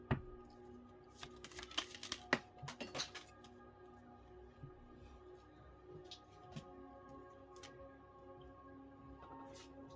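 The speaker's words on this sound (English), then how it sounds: "I've been shuffling this deck" A deck of tarot cards is shuffled in a quiet room, giving a few short riffling and tapping bursts early on before fading to near silence.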